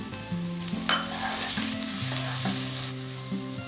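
Chopped garlic and ginger hit a hot pan in a mushroom and bok choy stir-fry, giving steady close sizzling with a brief louder burst as the pieces go in, plus light stirring scrapes.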